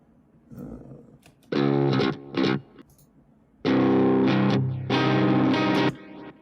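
Electric guitar with a pushed clean tone through the Archetype Nolly X amp plugin, a few bright strummed chords and short bursts ringing out with slight grit, separated by brief quiet gaps, loud and close with no talking.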